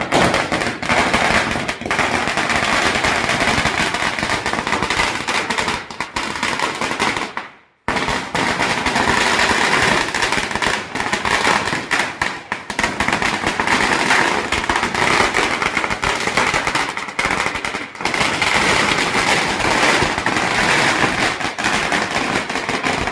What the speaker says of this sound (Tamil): சரவெடி 5000 வாழை வைக்கலாம்.